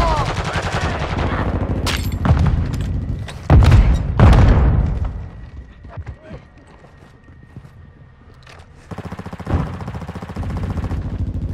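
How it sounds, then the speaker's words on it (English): A flash grenade thrown and bursting in Call of Duty: Modern Warfare II, with a couple of loud, heavy bangs close by amid gunfire-like clatter, then a quieter stretch before more bursts. "Throwing flash grenade!"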